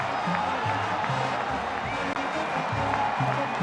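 A large stadium crowd roars steadily as the Kansas Jayhawks run onto the field for a college football game against the Iowa State Cyclones, a dense, continuous wall of cheering with a voice talking over it.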